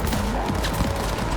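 Gunfire in the video game Cyberpunk, dense rapid shots with booming impacts filling the whole moment, loud and continuous.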